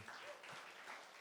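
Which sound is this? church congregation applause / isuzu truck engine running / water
church congregation applause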